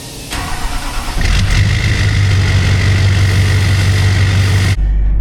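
An emissions-deleted truck engine with a turbo starts up and settles into a loud, steady idle with a deep rumble and a faint high whine, then cuts off abruptly.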